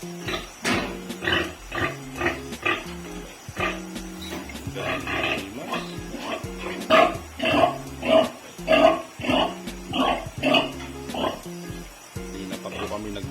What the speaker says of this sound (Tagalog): Nasasarapan talaga yung baboy.